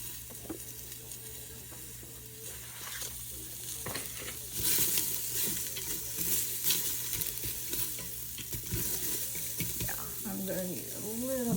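Onion fries in oil in a pot for Hawaiian-style beef stew, a low continuous sizzle with stirring scrapes that swell midway, and a voice is heard faintly near the end.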